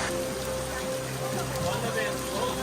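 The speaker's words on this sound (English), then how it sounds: "it is raining, which means we're not getting the views" Rain falls steadily on a mountain hike in Bali, a dense continuous hiss close around with a low rumble beneath and no pauses.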